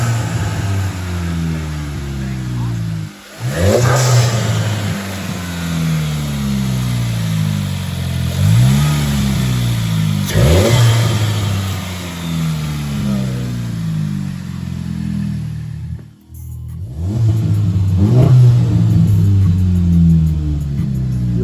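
A 2020 Volkswagen Jetta GLI with an APR intake revs its turbocharged engine repeatedly: loud rising and falling sweeps with turbo whoosh in a steady cycle of several revs, close and alone without talk.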